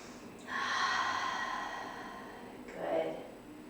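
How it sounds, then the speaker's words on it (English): A deep breath drawn in and let out during a yoga stretch: a clear, close inhale of about two seconds, then a shorter, softer exhale. "Breath in here and out."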